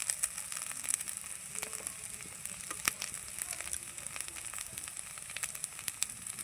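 Spices hissing and sizzling steadily in oil in a frying pan with ginger and garlic for a Bengali river-fish curry, a continuous close sizzle with scattered crackles and pops and no talking.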